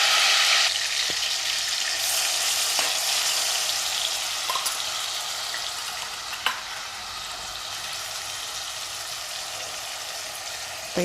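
Onion, tomato and green chilli paste frying in oil for chicken biryani, a dense steady bright sizzle heard close, with occasional faint stir clicks and no speech.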